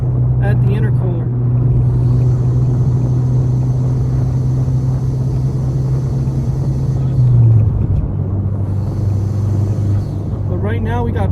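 A Ford Puma ST's engine drones steadily at a constant pitch while it circles Cadwell race track behind pace cars, a loud continuous rumble with a brief shift in tone near the end and a voice talking over it.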